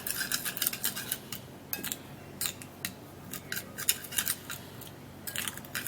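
Hair cream being stirred and mixed in a container, giving repeated light scraping and tapping clicks of a utensil against the sides in an irregular rhythm, close and moderately quiet with no talking.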